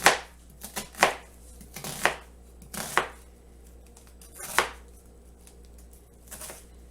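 A knife cuts through half an onion on a cutting board, giving several sharp, irregular chops with pauses between them, close and clear with no talking.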